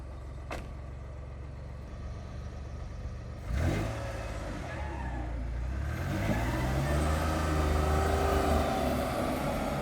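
A Tinger TF4 wheeled all-terrain vehicle's powerful engine pulls as it drives off, a steady low drone swelling after a sharp thump midway, then rising and falling in pitch as the machine accelerates, close and continuous with no talk.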